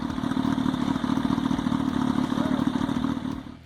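Kawasaki Ninja H2R track-only motorcycle with its engine running close by, a loud, continuous mechanical roar with rattling texture that stays steady before fading slightly at the end.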